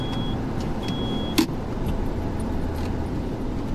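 Cars on the Hanshin Expressway Kobe Line on a quiet Sunday give a steady road rumble heard from inside a moving car, broken by one short click.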